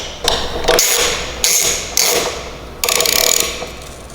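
Socket ratchet clicking in short bursts as a 13mm socket tightens the pedal nut on a Voodoo or Ghost electric bike, several close, crisp ratcheting runs separated by brief pauses, no talking.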